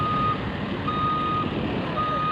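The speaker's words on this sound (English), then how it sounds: "there's some truck activity" Truck reversing beeps sound repeatedly at steady intervals during construction at a freshwater lake boat ramp, moderately distant over a continuous low engine rumble, with no one speaking.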